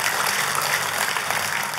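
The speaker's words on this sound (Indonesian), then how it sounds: "Oh, kalau tepuk tangannya meriah" Dense, steady applause from a church congregation fills the space at an even level, a continuous wash of many hands clapping without breaks, no voices standing out.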